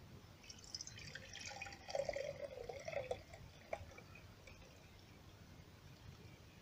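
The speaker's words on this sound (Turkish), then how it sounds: "Öncelikle bu rengi artık suyuna veren gelincikleri süzerek başlıyoruz" Poppy sherbet liquid strains through a cloth into a jar, giving faint, soft trickling and dripping sounds that fade to near silence.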